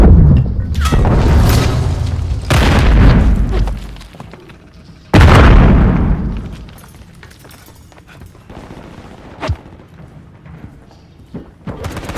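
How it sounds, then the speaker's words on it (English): Grenade explosions and gunfire in Call of Duty MW3 on PS5, several loud booming blasts with rumbling decay, the biggest one midway, followed by quieter scattered shots and thuds. "Grenade out!"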